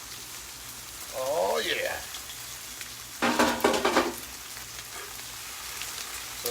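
Cabbage frying in oil in a pan for fried cabbage bowls, a steady close sizzle with a louder crackling burst partway through, while a voice briefly speaks over it.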